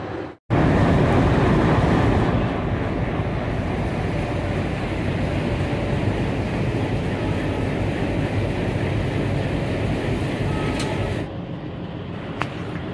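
Nanded - Sri Ganganagar Express hauled by twin WDM 3D diesel locomotives at Bikaner station, a loud steady rumble of the train moving and departing the platform, continuous and near, easing slightly near the end.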